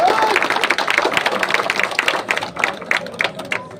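Audience applause at a Kanakadasa Jayanti gathering in Rampur, a dense burst of many hands clapping, loud and continuous, gradually thinning toward the end.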